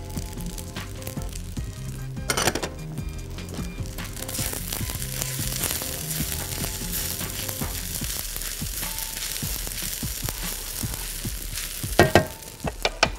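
A sauce of starch, sugar, salt and white pepper sizzles in a frying pan while being stirred, a continuous close hiss with soft scraping, a louder clatter near the start and a burst of stirring toward the end.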